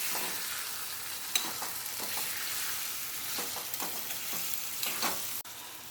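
Tindora and potato curry stirred in a pan gives a soft continuous sizzle with intermittent spoon scrapes and taps against the pan, close and fairly quiet, no talking.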